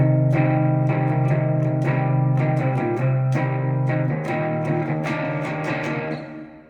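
An electric guitar with effects rings out a slow chord progression, each chord strummed and sustained with a shimmering, distorted tone, fading at the end.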